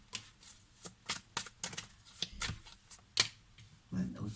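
A deck of tarot cards is shuffled close up in a run of quick, soft riffles and slaps, with faint speech in the background.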